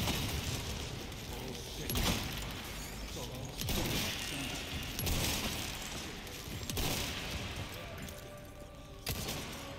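A grenade thrown in Resident Evil 4 Remake, with several loud, broad blasts and crashes spread across the stretch amid dense in-game noise, while someone talks over it.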